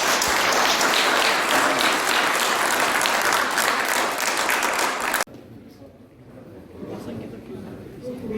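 A congregation at a thanksgiving service gives a sustained burst of loud applause for five newly elected lawmakers, which cuts off abruptly and gives way to quieter room noise and murmuring.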